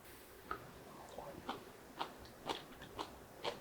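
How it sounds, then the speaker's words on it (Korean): Someone eats a salty side dish of seasoned sweet potato stems, making soft, evenly spaced crunchy chewing bites about every half second, close and quiet with no talking. "한번 고구마 순을 먼저 먹어 볼게요."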